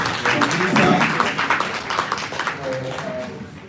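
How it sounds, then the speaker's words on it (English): A brief round of applause from an audience at an induction session of a national breastfeeding advisory group, scattered claps blending with voices, moderately close and fading toward the end. "So let's give a little round of applause."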